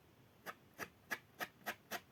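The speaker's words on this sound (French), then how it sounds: "Désolée pour le bruit que ça a couiné un peu" Six short squeaks at a steady pace while making a Mother's Day card, each a brief broadband chirp, close and fairly quiet with near silence between them.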